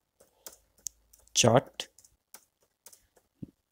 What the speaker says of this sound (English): first we'll just type the name